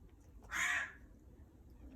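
A single crow caw, fairly close and clear, rising briefly out of quiet indoor room tone and then fading, with no voices present.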